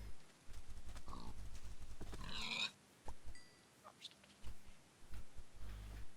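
Pigs oink in Minecraft near a swamp, several short grunting bursts spaced unevenly over a low game hum, with no talk.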